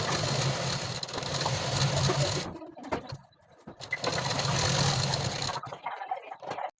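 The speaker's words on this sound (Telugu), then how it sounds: "పిన్స్ పెట్టుకొని మిషన్ మీద స్టిక్ చేసుకోవాలి." A sewing machine stitches lining onto a blouse, running in two steady whirring bursts separated by a short pause, loud and close, with no one speaking.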